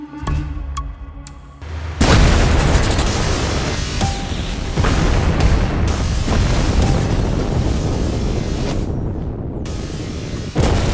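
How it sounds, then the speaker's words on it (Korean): A gas explosion rips through the lowest level of an apartment's underground parking garage: a sudden, very loud blast after a quieter start, then a long, roaring rumble that keeps going with another jolt near the end. "매일 오가던 지하 주차장에서 폭발 사고가 일어났다."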